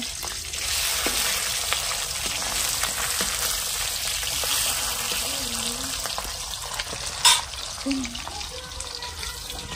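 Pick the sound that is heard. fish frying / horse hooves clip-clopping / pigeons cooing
fish frying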